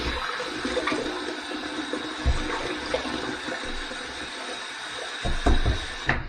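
A tap runs steadily to wet a head before an evening head shave, producing a continuous close hiss and splash with occasional gurgles and knocks, heard alone.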